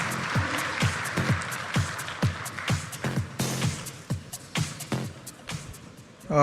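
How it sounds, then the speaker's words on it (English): Audience at a fintech festival applauding as a speaker is invited on stage, many hands clapping in a loose, rhythmic patter with sharp individual claps standing out, steady and moderately close throughout. "can we have a round of applause to invite on stage Shri Suvendupati"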